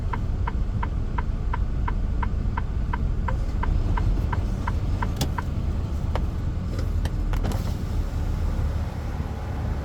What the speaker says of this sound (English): What's that car doing in here?